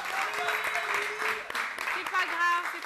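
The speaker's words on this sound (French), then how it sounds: "Bon, on applaudit quand même, on applaudit." Audience applause on a television game show in Congo after a contestant's turn over a 40,000 Congolese franc prize, steady clapping at moderate loudness running beneath a host's voice throughout.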